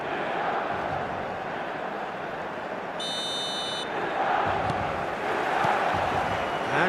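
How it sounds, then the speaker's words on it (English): Dense stadium crowd roars steadily at a football match in eFootball, a continuous wash of noise that swells slightly near the end, with a brief electronic buzzer-like tone cutting through partway. "The stadium is full of noise and energy"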